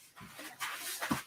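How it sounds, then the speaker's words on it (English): A dog makes a few short, soft vocal sounds, yelps or whimpers, fairly near in an indoor setting, with no talking over them. "someone let the dog out here with me and started barking"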